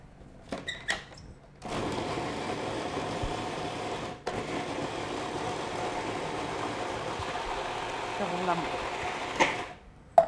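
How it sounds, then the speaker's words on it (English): A food processor purees a chicken pancake batter, whirring steadily for about eight seconds after a few short bumps, then stopping abruptly. Faint voices are heard around it. "so then we're going to just puree it in the food processor"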